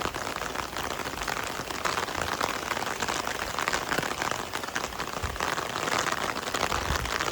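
Steady rain pours onto soil in Japan, a dense continuous patter of countless drops with a soft hiss, close and fairly even throughout, with no talking.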